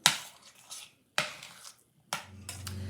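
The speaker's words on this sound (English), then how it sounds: "Mix that, stir that in." Spoon scraping and knocking in a pan while flour is stirred into sautéed rhubarb, three distinct clanking strokes with short scraping trails, fairly close and clear.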